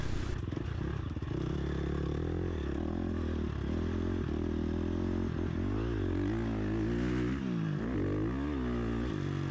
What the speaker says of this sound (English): That FMF titanium header and silencer just sounds so good.